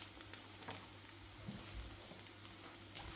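Meat goes into a pan of softened frying onions, the meat still partly frozen, giving a faint steady sizzle and crackle with a few soft clinks of stirring, quiet and close.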